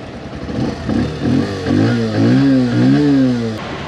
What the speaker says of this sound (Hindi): आपको एग्जॉस्ट नोट जो है वो सुनाते हैं बाइक का।